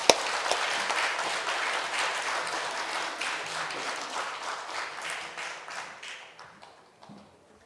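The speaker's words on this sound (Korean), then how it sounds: "다시 한번 박수 부탁합니다." A church congregation claps during a Sunday worship service, a burst of applause that starts sharply, holds as a thick patter and then fades gradually to near silence.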